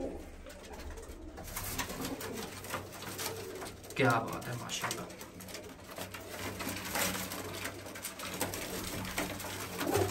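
Flying pigeons coo steadily through a dense, noisy backdrop, with a voice briefly speaking over the birds near the middle.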